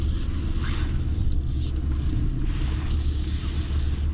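A 2023 RAM 3500 dually with a Cummins diesel rolls down the road, heard from inside as a constant deep rumble of engine and road noise with faint tire hiss above it.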